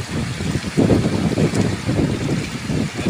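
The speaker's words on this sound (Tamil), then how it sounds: "காற்று அதிகமாக இருக்குது, வலையை ஒழுங்காக விரிக்க விட மாட்டேங்கி" Strong wind buffets the microphone in loud rolling gusts beside the water where a cast net is being thrown for carp, with no talk over the roar.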